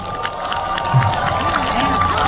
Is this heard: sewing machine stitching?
no